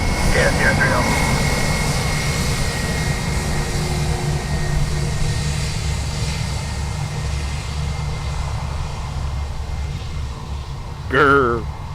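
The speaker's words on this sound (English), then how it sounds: "Heavy braking going on there." A jet airliner brakes hard after landing at Dublin Airport, a broad sustained roar of engine and reverse thrust that stays loud and steady throughout, with a voice heard near the end.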